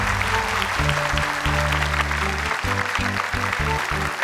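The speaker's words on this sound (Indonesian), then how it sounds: "Boleh tepuk tangan untuk Ica." A studio audience at a children's Quran memorization competition applauds a young contestant, with dense sustained clapping close and loud throughout and a faint musical drone underneath.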